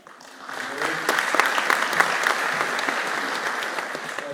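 An audience at a mayoral inauguration in Anchorage applauds, clapping swelling in after a quiet moment and holding steady and fairly loud, with a voice briefly audible beneath.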